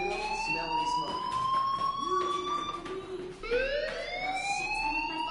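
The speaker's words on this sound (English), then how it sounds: "do you hear that fire alarm? That means you should be outside." Fire alarm in the video game Life is Strange, a loud wailing electronic siren that sweeps upward in repeated rising tones, with a brief dip before restarting, heard up close and alone.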